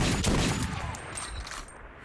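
Gunfire exchange in Metro 2033, with a burst of sharp shots up front and scattered rattling reports that fade off, fairly quiet overall against a low rumble.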